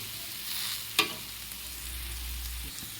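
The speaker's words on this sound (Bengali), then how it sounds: "এটা একটু ভাজা ভাজা হয়ে গেছে মশলাটা" Masala frying in a pan at home while being stirred, a soft sizzle with a single sharp scrape of the spoon near the start, quiet and close with no voices.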